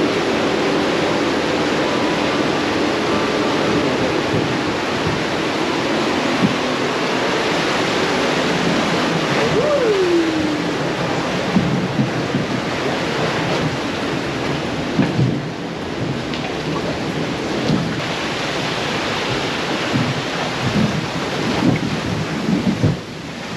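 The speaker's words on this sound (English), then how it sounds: "It looks like a roller coaster, but in log flume form." Log flume water ride at Dollywood theme park in Pigeon Forge, Tennessee, roaring continuously like heavy rain or a waterfall, a loud steady wash of splashing water with no talk over it.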